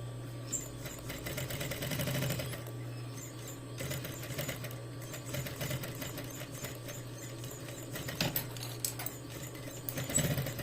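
A sewing machine stitching a seam on a zipper, a steady fine rattling hum that runs at moderate volume with brief pauses, heard alone without talk.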